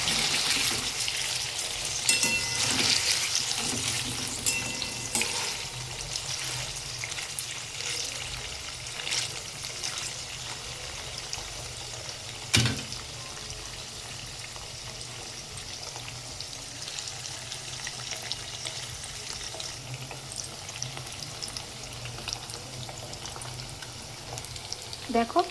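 Paneer pieces fry in oil in a pan with a steady, fairly quiet sizzle and crackle that carries on throughout, broken by one sharp clink midway.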